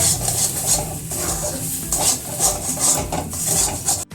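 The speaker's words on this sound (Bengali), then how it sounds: "এবার নাড়তে থাকবো, জলটা মরবে, শুকনো হবে" A spoon stirs a pea filling for kachori in a pan over heat, giving continuous scraping and clinking against the metal with a light sizzle as the mixture dries, close and steady throughout.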